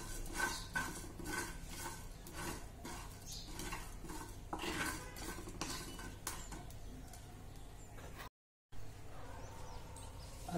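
Coriander seeds, a piece of cinnamon and cumin dry-roast in a pan, with repeated scraping and clattering of a spatula against the metal and faint crackling. The sound is close and continuous, with no talking.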